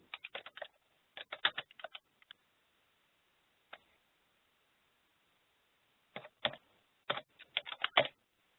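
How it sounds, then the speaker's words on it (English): Fingers typing on a computer keyboard in short bursts of quick clicks, with a long quiet pause in the middle and a stray single tap, close and light. "maybe I'll just type lease agreement"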